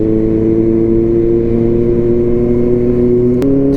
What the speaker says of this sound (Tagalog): Ang dami-daming sasakyan.